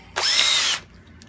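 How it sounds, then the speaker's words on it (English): A power drill with a 5/16 drill bit boring through drywall, a single sharp high whine that spins up quickly, holds for about half a second, then stops, close and loud. "you're going to drill a hole right there, right through the drywall"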